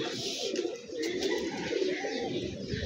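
Pigeons coo in low, rolling murmurs amid a busy hiss of background noise, steady and moderately near.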